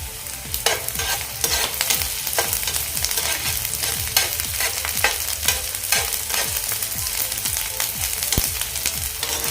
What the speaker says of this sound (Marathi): लसूण टाकून देऊया